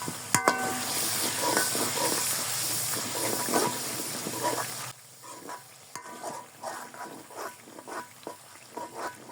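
Chicken korma masala sizzles loudly in a pan as water is added, a strong hiss of steam and frying that drops sharply halfway through, then continues as quieter, bubbling sizzle with stirring scrapes.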